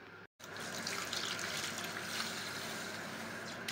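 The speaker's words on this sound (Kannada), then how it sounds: "ನೋಡಿ, ರಾಗಿನ ಈ ರೀತಿ ನೀರು ಹಾಕ್ಕೊಂಡು ಹಾಕ್ಕೊಂಡು ಜಾಲಿಸ್ಕೋಬೇಕು" Water runs steadily from a tap into a kitchen vessel while finger millet (ragi) is rinsed, a soft, continuous, faint splashing with no talk.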